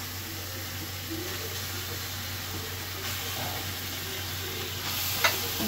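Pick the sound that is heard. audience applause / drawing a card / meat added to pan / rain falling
meat added to pan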